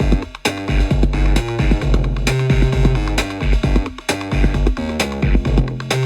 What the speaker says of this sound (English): Kind of a funky, old school electro bass line